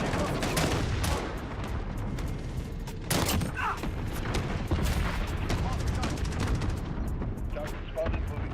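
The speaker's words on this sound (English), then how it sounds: "Enemy cluster strike." Cluster strike explosions and rapid gunfire in Call of Duty: Modern Warfare, dense booms and cracking shots that keep going without a break, loud and close, with sharp bursts standing out.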